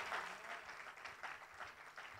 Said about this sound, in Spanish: dale un aplauso, claro que sí